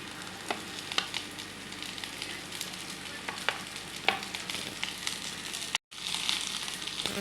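Chopped drumsticks fry with potatoes in a pan, giving a steady close sizzle with occasional stirring clicks and scrapes and a brief dropout near the end.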